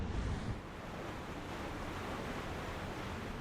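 Open Pacific Ocean water rushes and surges around a large military convoy of transports and warships, a steady, fairly faint wash of waves with a breathy wind undertone and a slightly heavier burst at the start.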